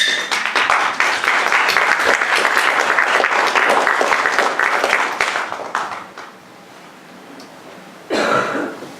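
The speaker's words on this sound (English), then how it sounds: "Please applaud." An audience applauds loudly and steadily for about six seconds at a senior project performance, then the clapping fades, with a brief burst of coughing or throat clearing near the end.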